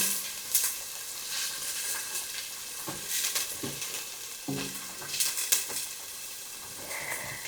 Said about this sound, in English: I'm going to saute these onions for about 2 to 3 minutes.